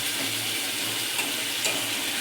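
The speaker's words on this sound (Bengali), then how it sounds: "তো অল্প একটুখানি জল দেবো আলুগুলো সিদ্ধ হওয়ার জন্য।" A little water hits hot fried spice paste with potatoes for an egg curry, raising a steady, loud, close sizzle and hiss that runs on without a break.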